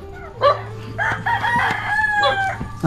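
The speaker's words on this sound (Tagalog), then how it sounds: "Grabe, ang dami ng manok." Several chickens cluck and a rooster crows close by, overlapping calls filling the air in a busy, noisy flock.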